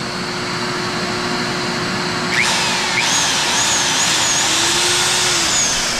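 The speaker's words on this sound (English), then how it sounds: "These, you gotta always be really careful with these big 1/2-inch drills." A big 1/2-inch power drill bores into fiberglass and plywood, a loud, steady motor whine with a shifting pitch midway, heard close and without speech.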